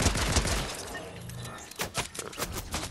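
Rapid bursts of blaster gunfire and impacts crackle in a Star Wars shooter video game, dense and loud, ending in a few separated sharp shots.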